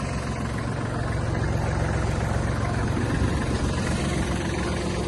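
A Kubota GL200, a 20-horsepower Japanese mini tractor, idles with a steady, even engine drone and low rumble that holds unchanged throughout, close by and with no voices.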